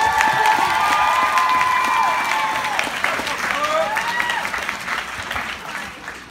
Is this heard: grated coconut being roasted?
no